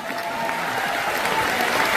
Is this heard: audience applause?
yes